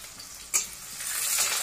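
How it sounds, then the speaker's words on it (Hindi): Onion, chili and garlic frying in a pan, giving a steady close hiss with one brief scrape early on and a bright sizzle that swells toward the end. "देख सकते हैं ये फ्राई हो रहा है इस तरह से"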